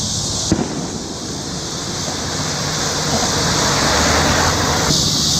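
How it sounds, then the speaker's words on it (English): Continuous crackling roar of distant fireworks, one sharp bang near the start, the noise swelling steadily louder. "Fireworks."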